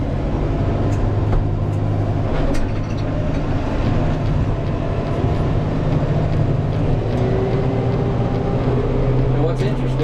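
Tractor driving in second gear towing an 8-foot Kodiak HD box blade on a Harbor Freight quick hitch, a loud steady low engine rumble and drone with rattling, continuous and close throughout.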